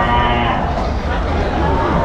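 Cattle lowing loudly and continuously at a busy outdoor cattle market before Qurbani, a dense close bellowing mixed with crowd noise and voices.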